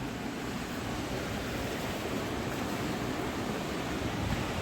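Steady, faint wash of sea waves at the shore near a seaside Hanuman temple, a continuous broadband roar mixed with wind and no distinct breaks.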